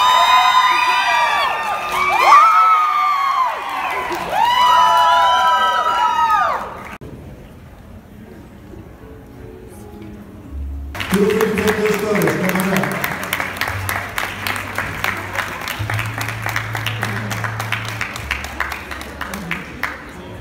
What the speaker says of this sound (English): Please, a big round of applause for group number two.